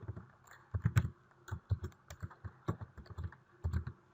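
Keys clatter on a computer keyboard as jQuery code is typed, in irregular bursts of close, crisp clicks with brief pauses between them.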